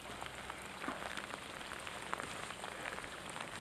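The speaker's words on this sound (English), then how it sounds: "the rain is just too much to deal with." Rain falls steadily during an outing fishing for bluegill, a quiet, even patter of drops on surfaces with no talking over it.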